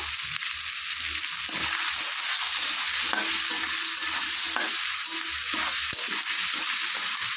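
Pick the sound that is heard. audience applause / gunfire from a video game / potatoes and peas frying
potatoes and peas frying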